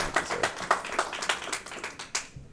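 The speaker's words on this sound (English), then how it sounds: "y'all can clap" A small audience at a school board meeting claps for a couple of seconds, with individual claps distinct and rhythmic, fairly close, before the clapping trails off.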